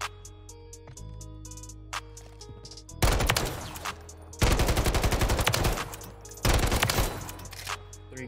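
Automatic rifle fire in the Modern Warfare 3 game: rapid sustained bursts of loud, close gunshots in three long volleys, separated by lighter single shots and clicking game sounds, with no speech.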